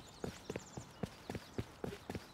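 Video game horse hooves clip-clopping in an even trotting rhythm, hollow knocks repeating about twice a second against a quiet background.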